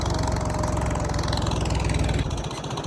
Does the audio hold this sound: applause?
no